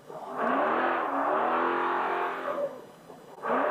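A SCORE Baja 400 off-road race vehicle, the Toby Price entry, roars close by with a sustained revving engine note that shifts as it approaches, briefly dips, then surges again.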